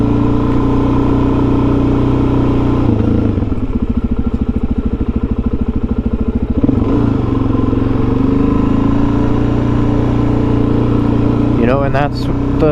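A Suzuki DRZ400SM supermoto engine runs loud and close, holding a steady drone, dropping into a rapid pulsing idle for a few seconds, then swelling back up with a brief rev near the end.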